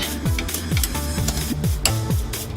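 Allen key cracking loose the bolts on a GA16i throttle body, a series of short ratcheting squeaks and metallic creaks repeating about every half second, close and fairly loud.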